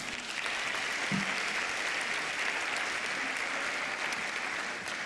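Steady applause from a dinner audience fills the room, a dense even wash of many hands clapping throughout with no break, moderately loud and unbroken by talk.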